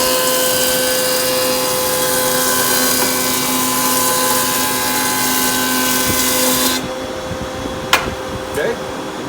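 A woodworking jointer flattens a board edge, a loud steady mechanical whine and hum running continuously before cutting off abruptly, leaving quiet room tone with a couple of clunks.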